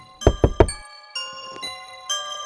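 Three sharp, loud knocks on a wooden door in a quick, even rhythm, close by, followed by a sustained ringing tone at a hotel in a horror story setting.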